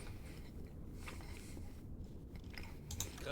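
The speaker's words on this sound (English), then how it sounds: "sorry for the munching noise" Soft, close chewing of a slice of bread with cheese, several quiet crunchy bites in quick succession, with no one talking.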